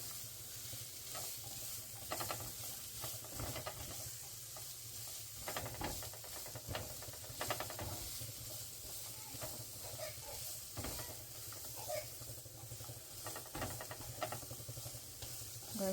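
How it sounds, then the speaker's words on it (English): Pea soup ingredients sauté together in a pan for a Skyrim-inspired recipe, giving a steady close sizzle and hiss with scattered stirring scrapes and soft pops throughout. "we're going to let these cook together for a little bit"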